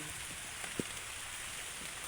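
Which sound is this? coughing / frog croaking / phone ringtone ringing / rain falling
rain falling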